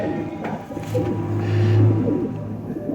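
Cooing of a Faqeer Gul pigeon held close by, a low rolling coo that swells in the middle and carries steadily over faint background noise with no one speaking.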